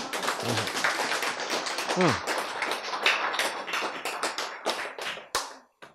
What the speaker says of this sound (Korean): 야, 박수!